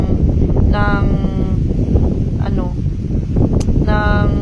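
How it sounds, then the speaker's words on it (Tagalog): Strong, cold wind roars steadily across the microphone in the countryside, loud and close, while voices speak intermittently over it. "Ang lakas ng hangin."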